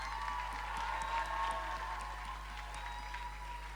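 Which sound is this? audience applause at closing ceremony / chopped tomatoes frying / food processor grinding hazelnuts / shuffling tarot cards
audience applause at closing ceremony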